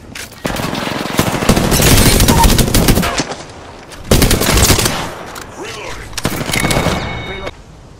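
Apex Legends firefight with rapid bursts of automatic gunfire, loud and close, in long volleys separated by short pauses, mixed with game effects and brief speech.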